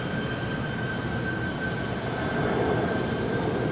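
A Polar Air Cargo Boeing 777 takes off at LAX, giving a steady, broad jet roar with a faint high whine held throughout, heard from some distance and swelling slightly near the end.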